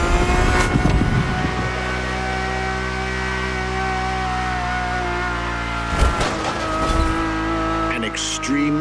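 Ferrari supercar engine in the racing video game The Crew Motorfest, a loud, steady high-revving drone that holds throughout, with brief shifts in pitch around the middle and near the end.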